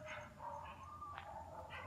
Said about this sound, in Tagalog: Daming aso sa loob.